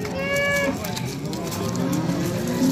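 Cattle at a busy livestock bazaar in Yangiqo'rg'on, including a Russian-breed cow with its calf, give a moo amid steady crowd noise and nearby chatter.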